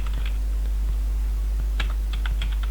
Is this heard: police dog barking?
no